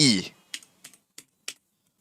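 Keystrokes on a computer keyboard: a louder opening burst, then four separate clicks spaced about a third of a second apart, close and fairly crisp. No one speaks.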